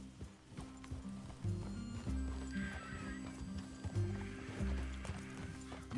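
Horses in the Red Dead Redemption 2 video game clop along at a trot with steady, close hoofbeats and a whinny, while faint game ambience sits underneath.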